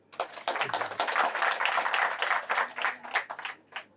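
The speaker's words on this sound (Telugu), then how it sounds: "క్లాప్స్ కొట్ట" An audience at a Lions Club general meeting applauds, many hands clapping together in a steady dense patter for a few seconds before thinning out into scattered claps.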